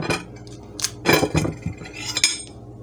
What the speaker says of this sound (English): the easiest way is just to slice down the middle